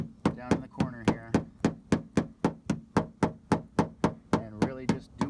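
A paintless dent repair hammer strikes the dented brow line of a 2014 Subaru BRZ racecar fender, landing about twenty sharp, evenly spaced metallic knocks in a steady rhythm, close and loud, each with a brief ringing tail.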